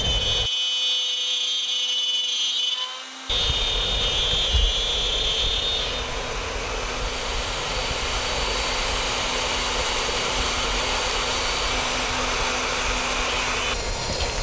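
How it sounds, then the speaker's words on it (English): Power tool cutting loose mortises in wood for a modern dresser, taking shallow passes: a steady, loud motor whine runs throughout with a brief lull near the start, a continuous close mechanical drone. "Here I'm cutting some loose mortise and tenons. Just taking several shallow passes."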